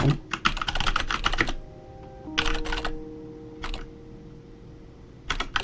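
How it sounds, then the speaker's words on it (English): Fast typing on a computer keyboard in bursts of dense, close clicking, separated by quiet pauses with a faint steady tone underneath. "sounds like you're typing so much"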